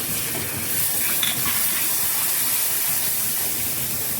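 Two and a half bowls of water go into hot roasted atta halwa (kada prasad), making a loud, steady steam hiss that carries on for several seconds without letting up.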